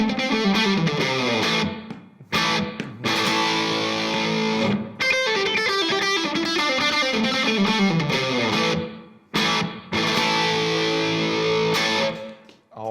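Heavily distorted electric guitar plays rapid, tightly muted runs, stopping abruptly a few times with brief silent gaps before launching back in loudly.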